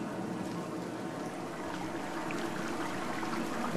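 Steady rushing river water in the game Dear Esther, a continuous even flow filling the clip, close and alone with no voices.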